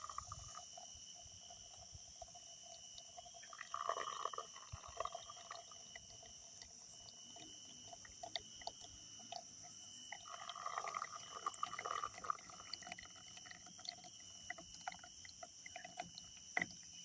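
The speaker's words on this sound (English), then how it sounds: "you're going to pour your water slowly" Water is poured slowly over coffee grounds outdoors by a propane camp stove, a faint soft trickle in two brief stretches under steady cricket chirring.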